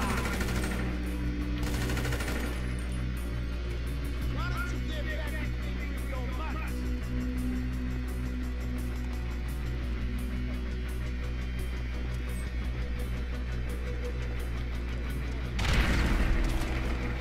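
A sniper rifle fires in GTA V online play, sharp cracks heard over a steady droning game background with voices talking, the shots coming at a couple of points with a louder burst near the end.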